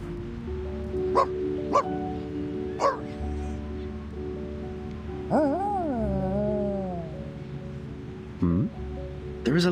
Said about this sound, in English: There is a lovely puppy.